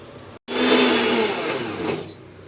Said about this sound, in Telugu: ఇప్పుడు కొంచెం మీరు లైట్గా మస్క్ మెలన్ గ్రైండ్ చేసుకొని మిల్క్ వేసుకోండి